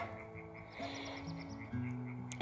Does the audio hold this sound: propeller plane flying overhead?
no